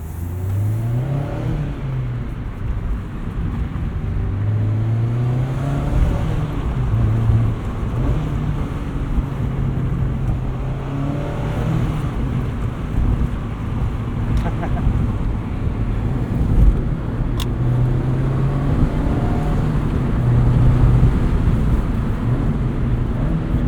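A 2024 Mazda MX-5 Miata Club drives along, its engine droning and rising through the revs with gear shifts, under steady road and wind noise from inside the cabin, loud and continuous.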